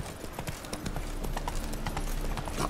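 Roach, a horse in The Witcher 3, gallops with a steady, rapid clip-clop of hooves, fairly close and continuous throughout under a low rumbling game ambience, with faint voices in the background.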